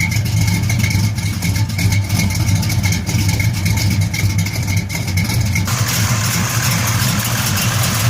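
A rebuilt 1968 Buick GS 400 V8 idles on a cold start, a loud, steady low rumble with an even, throbbing pulse that holds through the whole stretch.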